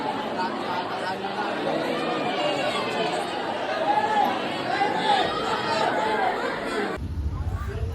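Crowd of devotees queued at the Dronagiri temple festival, a steady murmur of distant overlapping chatter and bustle that continues throughout, dropping away abruptly near the end.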